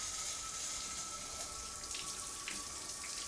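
Shower water runs steadily in a house in the early morning, a constant hissing spray with no pauses and no voices.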